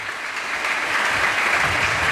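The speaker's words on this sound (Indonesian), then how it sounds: "Tepuk tangan dulu untuk Rumah Sakit Astiapati." Studio audience applauding at an Eid al-Fitr talk show, a dense, even patter of many hands clapping steadily for about two seconds with no voices over it.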